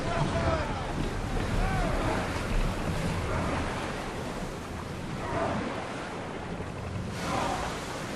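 A sailing ship moving over open sea in Assassin's Creed Odyssey, with a steady wash of waves and wind filling the whole stretch at an even level, under intermittent talk.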